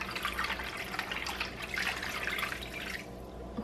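Cold water runs from a kitchen tap into a sink while short ribs are being soaked, a soft continuous splashing trickle, fairly quiet and steady.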